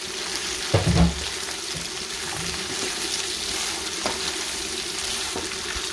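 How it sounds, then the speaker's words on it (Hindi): Cut okra lightly frying in masala in a pan, a steady close sizzle with a loud burst near the start as the pieces go in, then an even crackle with a few soft knocks. "जो मैंने भिंडियाँ काट के रखी हैं उनको हम करेंगे अब हल्का सा फ्राई करेंगे"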